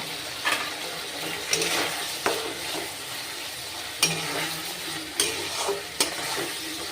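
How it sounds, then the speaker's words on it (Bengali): Poppy seed paste with pointed gourd and chilies cooks in a pan, sizzling softly under repeated scraping strokes of a spatula, each stir landing as a short, distinct scrape every second or so. "পোস্তটাকে খুব সুন্দর করে নাড়বো একটু কষিয়ে নেব"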